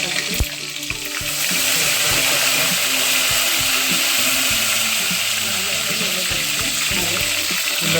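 Cumin, mustard seeds and asafoetida sizzle loudly in hot oil for an amtee, a steady bright crackle with scattered pops and some stirring clatter, close up and without talk.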